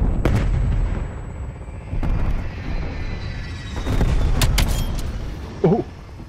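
Artillery fire in a multiplayer shooter game, heavy booming blasts in irregular succession with rumbling low end and a droning aircraft-like background, several loud impacts spread across the stretch.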